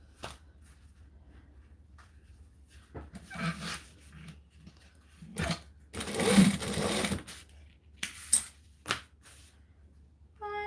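A sewing machine stitches and back stitches across the tops of pockets in quick bursts of whirring, separated by short gaps and small clicks, moderately close and without talk.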